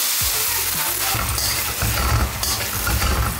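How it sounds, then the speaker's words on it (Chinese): Green vegetables stir-fried with shiitake mushrooms in a hot wok give off a loud, steady sizzle with constant crackling spatter throughout. "超级清淡的炒青菜"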